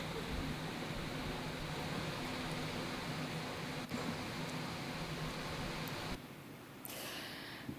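Steady broadband hum and whirring of data centre machinery, low and constant like fans and air conditioning, with a slight drop in level near the end and no voices.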